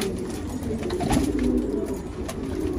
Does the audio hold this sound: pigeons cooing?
yes